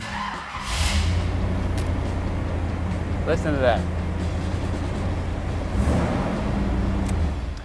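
A 1973 Chevrolet Corvette 454 Stingray's big-block V8 cranks over and catches, then settles into a steady, loud, rumbling idle that runs throughout, with a brief rise near the end and a few spoken words over it.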